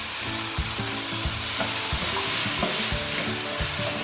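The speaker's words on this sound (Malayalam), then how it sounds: "ഫ്ലെയിം കൂട്ടി വെച്ചിട്ടാണ് ഞാനിവിടെ വഴറ്റി കൊടുക്കുന്നത്." Vegetables with washed, drained green peas and salt sautéing in a pan over high flame for vegetable biryani, a steady close sizzle broken by repeated scraping stir strokes, with no talk.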